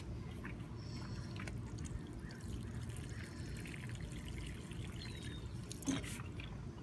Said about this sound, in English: And now we're just gonna water the plant.